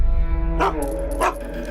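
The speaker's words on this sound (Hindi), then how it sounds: "भौंक क्यों रहे हो?" A pet dog barks twice in quick succession, close and loud, with a scene from a Hindi-dubbed South Indian action movie quietly underneath.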